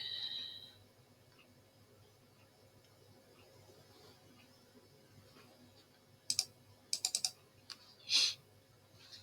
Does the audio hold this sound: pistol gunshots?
no